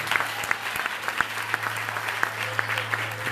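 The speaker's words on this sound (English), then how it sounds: "Somebody clap for Jesus, she's free." A congregation claps at a charismatic church deliverance meeting in Melbourne, a dense, continuous ripple of hands over a low hum, with faint voices mixed in.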